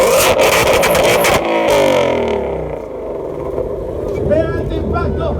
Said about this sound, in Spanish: parte del Power Víctor Aguilera en este Ford Mustang Shelby GT500 Kit Genesee, 1000 caballos.